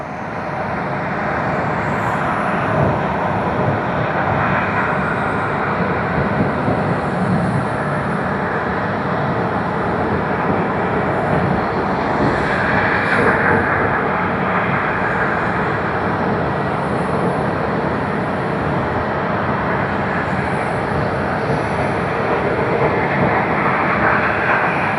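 Air China Airbus A321 taxiing at Tokyo Haneda Airport, its jet engines a steady, broad whooshing roar heard from a distance, constant and unbroken with a faint background hum.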